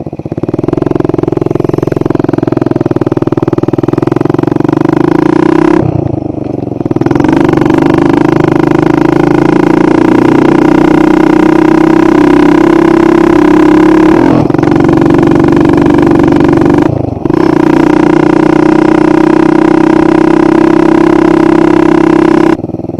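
Motorcycle engine running loud and close, holding a steady throaty drone with several sharp throttle changes as it revs up and drops back while riding through town, no talking over it.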